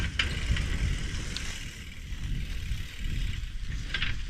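A Schwinn Traveler bicycle with a worn 3-speed hub runs in second gear, giving a steady low mechanical rumble with faint ticking and whirring throughout, close by and without talk.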